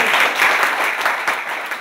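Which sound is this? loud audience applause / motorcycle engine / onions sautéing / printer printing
loud audience applause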